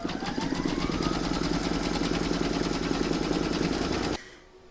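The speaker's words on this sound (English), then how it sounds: "You're going to load the file into your machine, and then you're going to stitch round number 1" An embroidery machine stitches a placement outline for vinyl on an in-the-hoop coaster, a rapid rhythmic mechanical chatter running steadily and close, then stopping abruptly near the end.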